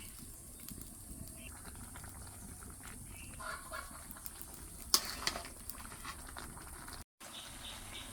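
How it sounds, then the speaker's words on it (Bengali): Fried pieces of raw jackfruit stirred into a simmering spice masala with a little gravy, giving a soft, continuous sizzle with scraping stirs and one sharper clatter partway through. "এখন হচ্ছে এর ভিতরে ভাজা কাঁঠালগুলো আমি দিয়ে দিব।"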